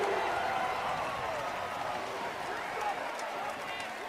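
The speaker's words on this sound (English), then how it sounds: "And the crowd loves it." Lacrosse crowd cheering after a goal in a Premier Lacrosse League game, Maryland Whipsnakes versus Cal Redwoods. A steady, loud roar of many voices with scattered applause holds throughout, with a commentator speaking over it.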